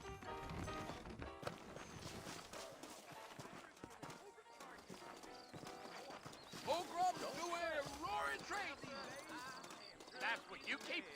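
Hoof clip-clop from saddled horses in the video game Red Dead Redemption, mixed under someone talking and background music, steady and moderately close.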